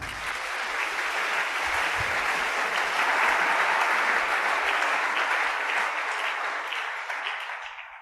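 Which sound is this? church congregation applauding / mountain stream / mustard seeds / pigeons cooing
church congregation applauding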